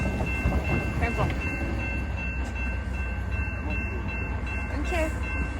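Two trains passing at Brockville, with steady rumbling rail noise and wheel clatter running throughout, a horn-like tone and faint squeals nearby, and some talk in the background.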